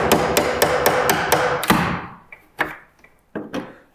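A 5-in-1 painter's tool is hammered into the painted-shut meeting rail of a stuck window: a quick run of sharp, loud close knocks, then a few spaced single blows tapering off.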